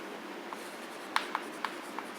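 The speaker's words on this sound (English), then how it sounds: "write down what is given here" A pen writes on paper, soft scratchy strokes with several short distinct ticks and taps, close and quiet, heard alone without talking.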